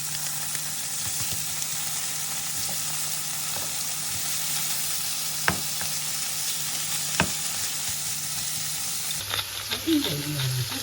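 Beef fillet sizzles in melted butter in a pan, a steady close frying hiss with a few sharp crackles, then the sound changes near the end as the cooking is stirred or moved.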